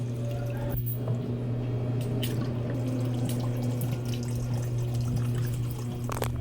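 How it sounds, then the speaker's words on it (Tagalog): Steady running water pours into a cooking pot for pancit canton noodles, a continuous low rush with faint clinks and splashes throughout. "Lagyan lang ng tubig."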